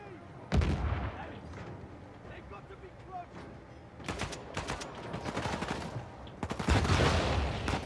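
Explosions and gunfire in the video game Uncharted 4, with a loud blast at the start and further heavy bursts later, set against continuous game noise and a voice talking.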